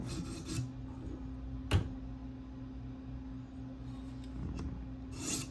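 A K390 steel Delica knife is drawn across stones on a TSProf K03 sharpener, making soft repeated rasping strokes with a sharp click partway through, close and quiet against a low background hum.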